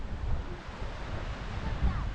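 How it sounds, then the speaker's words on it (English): Small waves break on the shore at Port de Soller in Mallorca, a soft rolling wash heard up close, partly masked by gusty wind rumbling across the microphone. "start to hear the waves crashing"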